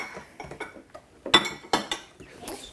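Muffin batter being stirred in a bowl, heard as a run of irregular clinks and scrapes of a utensil against the bowl, with a few sharper knocks partway through, close by and with no talking.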